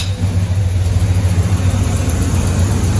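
A Chevrolet Monte Carlo engine idles roughly with an exhaust leak, giving a steady, throbbing low rumble that carries an uneven pulsing flutter, close by and with no talking over it.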